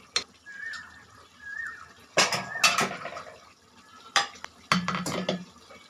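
A spoon scrapes and stirs beef curry in a cooking pot in several separate bursts, the loudest two near the middle and the end, with quieter clatter and a faint cooking hiss between them.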